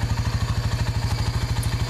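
A 1998 Honda TRX 4-Trax 300 ATV engine runs close by with a fast, regular thumping pulse and rattly clatter, steady for the whole moment.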